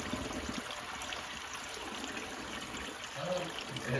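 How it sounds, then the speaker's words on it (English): Water trickles steadily into a glass aquarium tank being set up, a continuous soft splashing and dribbling with a slightly louder gurgle near the end. "Oh, it's that water sound."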